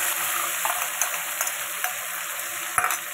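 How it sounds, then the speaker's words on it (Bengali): Potatoes fry in an oil-filled pan with spices, a continuous close sizzle with crackles and occasional sharp pops and stirring clicks, no talking. "আলুগুলো একটু ভাজা ভাজা হতে থাকুক"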